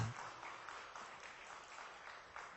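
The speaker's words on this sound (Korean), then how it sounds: "박수 한번 쳐주세요" A church congregation at a Sunday young adults' service claps together, a soft, even spatter of applause lasting a couple of seconds before breaking off.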